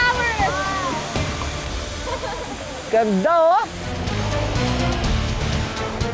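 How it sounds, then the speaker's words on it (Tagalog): River current rushing loudly during a boat ride through rapids, a steady broadband wash of water throughout, with excited voices and shouts over it. "Palakas ng palakas ang agos."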